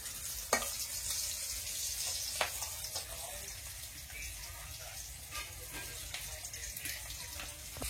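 Fish frying in a pan in a Bangladeshi village kitchen: steady, close sizzling and crackling throughout, with occasional sharp clacks of stirring.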